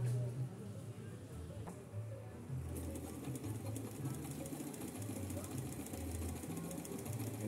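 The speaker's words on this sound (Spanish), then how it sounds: "El mecanismo de esta máquina es muy suave, es fino, pues tiene un sonido muy particular, muy bonito." A Kenmore 158 all-metal sewing machine runs with a fast, even mechanical hum and rhythmic clatter close by, while someone talks over it.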